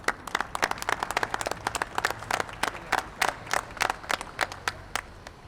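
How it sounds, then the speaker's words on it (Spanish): Sparse applause from a small audience at a Chilean government press briefing, with separate distinct claps spaced unevenly, moderately near and fairly quiet, alone without talk. "el aplauso es para ustedes"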